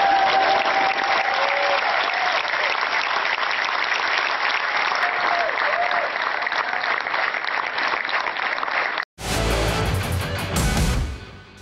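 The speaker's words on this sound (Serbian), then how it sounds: "pozivam vas kao slobodne ljude da najveći aplauz u ovom festivalu" A theatre festival audience applauds in a dense, sustained wave of clapping that continues evenly for several seconds before breaking off abruptly into a different, music-like sound.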